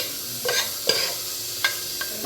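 Plain sausages cooking in a covered pan, stirred with a utensil: a steady sizzle under several sharp scraping strokes, close and fairly loud.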